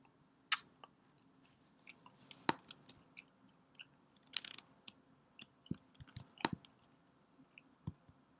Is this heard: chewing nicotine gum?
yes